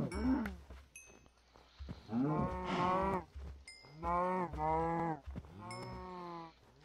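Several video game cows moo in long, low, drawn-out calls, one after another, with faint clicks and chimes between them.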